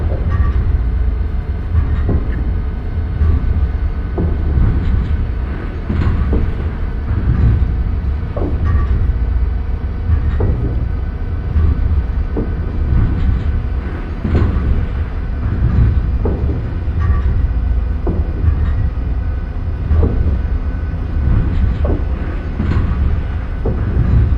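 An Amtrak Northeast Regional train runs on rail with a loud, continuous low rumble, steady rhythmic clacking of wheels over joints and a constant rolling roar heard from on board.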